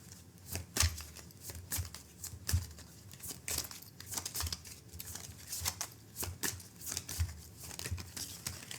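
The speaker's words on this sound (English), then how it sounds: "We're going to pull some more cards." A deck of tarot cards shuffled and handled at close range, steady soft papery slaps and crinkly riffles repeating through the clip, quiet with no talking.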